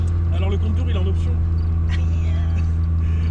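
The engine of a Golf GTI 20VT drones steadily under a rough, buzzing hum with a steady low idle-like tone throughout, while people talk over it.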